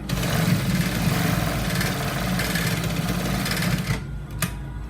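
A sewing machine runs a straight stitch along a trouser seam, a steady close mechanical whir with rapid needle ticking for about four seconds before it stops abruptly, leaving brief quiet clicks.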